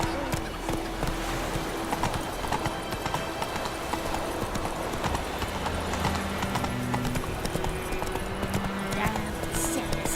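Roach the horse galloping in The Witcher 3 game, with steady rapid clip-clop hoofbeats throughout beneath music and a voice speaking.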